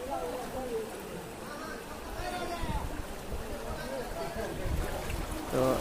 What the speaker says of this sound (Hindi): देखिए कितने स्पीड में यहाँ पानी चल रहा है